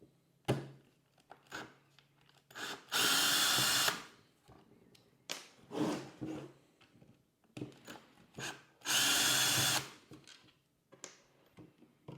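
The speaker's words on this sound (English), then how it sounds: "These screws are quite long, so you could alternatively use a screw gun." A screw gun whirs in short bursts and two longer sustained runs while backing long screws out of a Ryobi 40V 4 amp battery pack, with small clicks and handling noises between the pulses.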